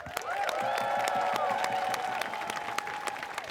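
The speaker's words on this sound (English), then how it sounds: "I want to start out with a big round of applause for my community" Sustained crowd applause and clapping at an outdoor migrant justice protest, steady and fairly loud throughout with scattered sharp claps and faint cheers.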